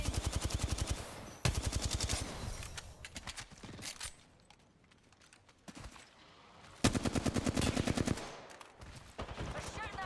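Automatic weapon fire in a shooter video game, with loud rapid bursts at the start and again later, a quieter stretch of scattered shots and footsteps between them, and faint talk underneath.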